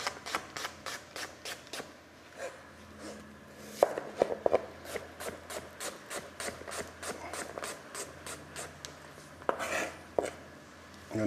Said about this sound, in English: the idea here is to cut the onions relatively thin so that they cook away and that you get caramelization all over